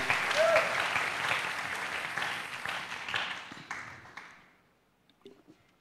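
A church congregation at a French-language service claps in sustained, dense applause that gradually thins and fades to a few scattered claps.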